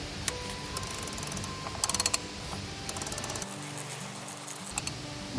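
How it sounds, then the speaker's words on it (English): A ratchet tightens a plastic part during an oil change on a Ford F-350, giving several quick bursts of close, crisp clicking separated by pauses. "tighten it just a little bit with the ratchet"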